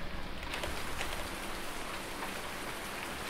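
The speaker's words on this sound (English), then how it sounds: "Look at Daggerwin just sat in the rain" Steady rain pours down in a survival roleplay game, a dense, even hiss of drops on surfaces that holds constant throughout with no voices.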